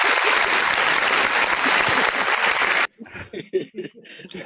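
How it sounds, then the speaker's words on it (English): A show audience bursts into loud, dense applause mixed with some laughter for nearly three seconds, then it cuts off abruptly and a person starts talking. "That was a round of applause"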